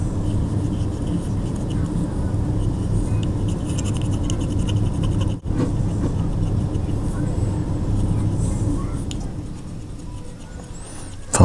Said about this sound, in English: the air conditioning just shut off there. It was kind of loud